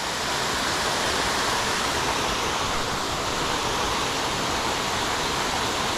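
Buderim Falls waterfall pours in a steady, dense roar of rushing water that stays close and constant throughout, with no voices.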